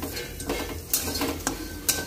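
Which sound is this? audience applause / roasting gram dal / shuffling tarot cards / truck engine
roasting gram dal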